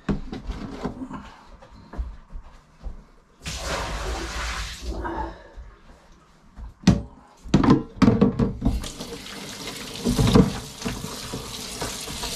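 Water running from a tap while soaking water is changed, splashing bursts and gushing flow with intermittent thunks of containers, close by, with quiet stretches between.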